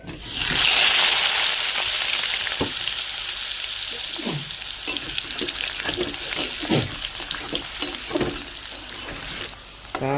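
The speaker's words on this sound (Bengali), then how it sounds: "আর বন্ধুরা আমি ওই তেলের মধ্যে এই আলুগুলো ভেজে নেব" Potatoes frying in oil in a wok, a dense, loud sizzle running throughout, with scattered pops and scrapes of stirring.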